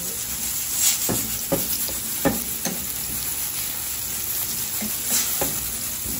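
Baby squid sizzles steadily in hot oil in a pan, a constant loud frying hiss with a few sharp pops and occasional stirring clacks, no talking.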